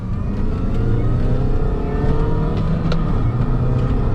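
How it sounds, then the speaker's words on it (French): A Mini Cooper S engine pulls hard under acceleration, a loud steady mid-pitched drone with rising harmonics held close for the whole stretch, no talking. "maintenant qu'on a testé un petit peu l'accélération"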